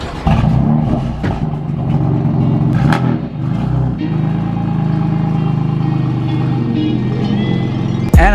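A Nissan R35 GT-R engine idles and pulls away at low speed as the car is moved to park outside, a steady close rumble with a brief throttle blip near the start and a rise again at the very end.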